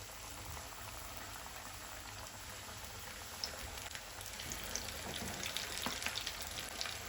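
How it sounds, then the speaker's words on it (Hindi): Coated chicken legs fry in hot oil with a steady, dense bubbling sizzle that grows slightly louder and crackles more over time, with no voices. "ऑयल गरम हो गया है, इसमें चिकन के लेग डालेंगे।"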